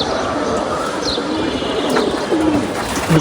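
Pigeons coo close by in soft, throaty repeated calls over a steady background hiss, with a few brief chirps and no talking.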